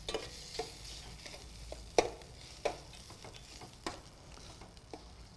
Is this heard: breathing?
no